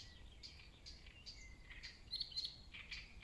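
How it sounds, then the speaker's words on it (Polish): Songbird, a nightingale perched in an alder tree, sings in short, bright, varied phrases at moderate distance, faint over low outdoor rumble, with no talking. "A tam na olsze siedzi słowik"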